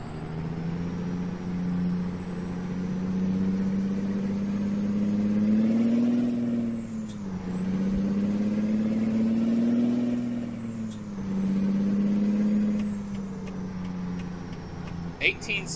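A 455-horsepower truck engine in American Truck Simulator drones steadily, rising and falling through gear changes, with sharp air-brake hisses between pulls; someone talks faintly over it at times.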